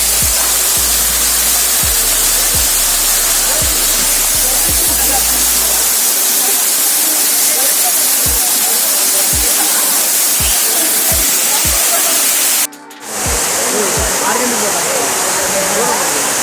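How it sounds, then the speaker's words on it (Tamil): Kona Falls, also called Kailasakona, is a 40 ft waterfall in Chittoor, Andhra Pradesh, with bathers in the pool. Water falls from height with a loud, steady, dense roar that fills the whole clip, and a brief dip occurs near the end. "நல்லா ஹைட்லேருந்து வருது தண்ணி."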